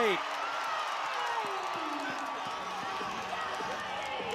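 A volleyball arena crowd at Van Andel Arena roars in a broad, sustained wash of cheering during a pro match between the Grand Rapids Rise and the Columbus Fury, with a voice over the noise.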